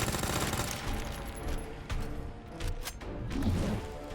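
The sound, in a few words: SMG gunfire in Resident Evil 2 video game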